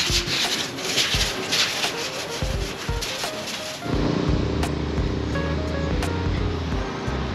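Abrasive sanding across a painted Hellcat Redeye-style hood for a Dodge Charger R/T: a steady, close rubbing rasp for about four seconds, then it gives way to a quieter hum with scattered light knocks.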